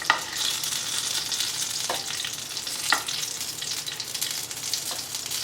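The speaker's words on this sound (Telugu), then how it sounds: "ఇలా మిర్చి 2 వైపులా కాలాలండి." Green chillies frying in oil in a pan, a loud continuous sizzle with a few brief scraping stirs, close up and with no voices.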